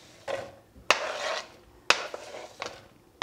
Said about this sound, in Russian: И сейчас я отправляю их на сковородку.